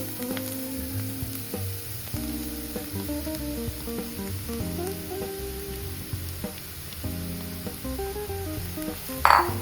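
Beef pieces sizzle and fry steadily in a hot pan with spice powders for a spicy beef unnakaya, a continuous crackling hiss with occasional stirring clinks and a brief louder burst near the end, no talking.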